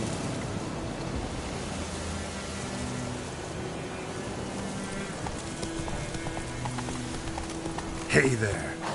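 Hooves of Roach, the horse in The Witcher 3, clip-clop steadily at a walk over a low ambient wash, with a brief louder jostle near the end.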